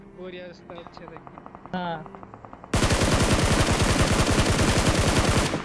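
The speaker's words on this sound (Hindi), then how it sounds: "ये मैंने पहली गोली चलाई इस मैच की" Sustained rapid automatic AKM gunfire in a video game, loud and dense, bursts in after a few seconds of quieter game sounds and short electronic tones.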